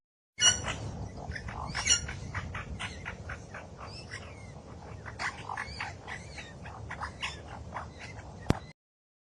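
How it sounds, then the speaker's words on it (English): Magpie calling, a rapid series of harsh chattering chirps and squawks, fairly close and clear, stopping abruptly after about eight seconds. "Magpie."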